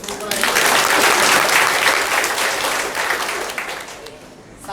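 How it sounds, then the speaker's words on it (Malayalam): Audience applause at a Mango Tree magic show at Technopark, Kerala: dense, sustained clapping from a crowd, loud and steady for several seconds before thinning slightly toward the end. "ഒരു കൈയടി കൊടുക്കും."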